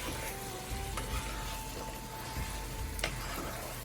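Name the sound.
stirring cauliflower into frying potato curry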